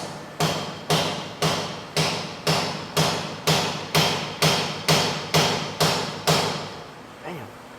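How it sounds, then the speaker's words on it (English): Steady series of about a dozen sharp hammer blows, evenly spaced roughly every half second, loud and close, with the last strike softer. "Swinging that hammer."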